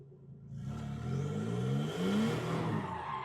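A car drifts under throttle, its engine rising in pitch and revving harder as tires squeal, loud and fairly close throughout.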